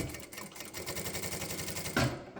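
An industrial Jack A5E-A sewing machine runs a seam with a fast, even mechanical chatter, close and steady throughout, ending with a brief louder clunk.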